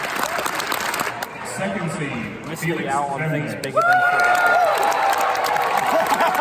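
Audience applause and cheering from a crowd at the Rubik's Cube World Championship 2019 finals, a steady wash of clapping that swells louder partway through, with someone talking over it throughout.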